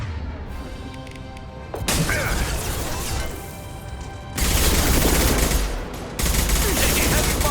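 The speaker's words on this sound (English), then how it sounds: "Taking heavy fire." Heavy gunfire in the video game Mass Effect 2, with sustained loud bursts of shots and impacts that surge in several waves and build in intensity across the stretch.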